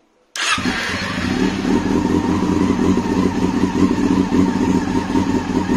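A car engine cranks and catches abruptly after the battery ground terminal is reconnected, then settles into a loud, steady idle close by with no one talking.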